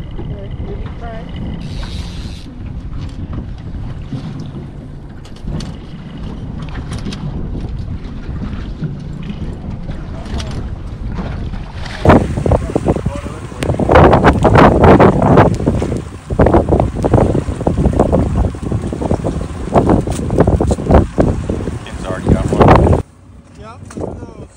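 Wind buffets the microphone on a fishing boat on Bonneville Pool during spring salmon fishing, with a strong, roaring gusty rush building loud in the second half amid water noise, and someone speaks briefly early on.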